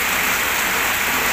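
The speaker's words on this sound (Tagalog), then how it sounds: "Lakas ng ulan." Heavy rain pours in a steady, loud hiss with no pauses, falling near a fish tank during a fishing outing and filling the whole short stretch on its own.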